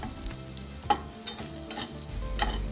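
Fried rice with mixed vegetables and cashew nuts being stirred in a pan, a steady low sizzle beneath a few sharp scrapes and clinks of the spatula, close and clear with no talking.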